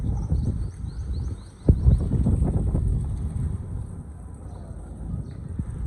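Wind on a rooftop buffets the microphone in a steady low rumble with gusty swells, close and fairly loud throughout.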